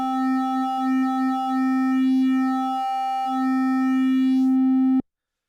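A triangle-wave oscillator on an IK Uno or Korg Monologue synth, holding a steady mid-pitched buzzy tone with a slightly shifting formant color for about five seconds before cutting off sharply.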